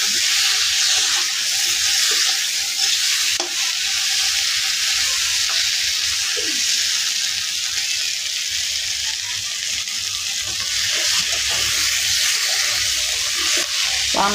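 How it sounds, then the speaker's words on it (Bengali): Steady, loud sizzling of brinjal and potato frying in a pan, with occasional scraping stirs and clinks cutting through the continuous close hiss for the whole stretch; no talking. "বেগুন আলু দিয়ে করে ভাজা ভাজা করে নিতেছি"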